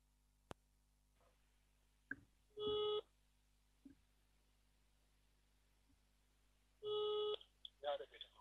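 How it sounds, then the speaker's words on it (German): Short electronic beeps and telephone tones sound as a phone line is redialed for a call, coming in two brief bursts with faint clicks and some speech in between against a quiet background. "Ich muss hier nochmal neu anrufen."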